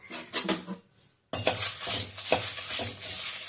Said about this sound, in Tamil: அரிசி நல்லா பொரியுது.